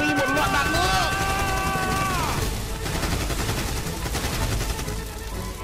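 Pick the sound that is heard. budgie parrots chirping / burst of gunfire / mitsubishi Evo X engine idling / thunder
burst of gunfire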